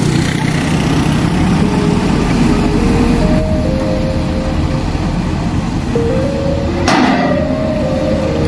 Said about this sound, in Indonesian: kita melihat lebih dari dekat ya alat bor pilenya